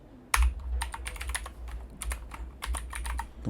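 Someone types code on a computer keyboard, a close run of quick, irregular key clicks in bursts with short pauses, and no talking.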